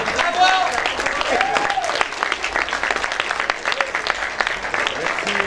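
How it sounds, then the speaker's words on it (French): A crowd at a Paris film premiere applauds the champions, sustained clapping with a voice talking over it and a few whistles or cheers rising above the steady applause. "Et on peut encore les applaudir, franchement, encore une fois."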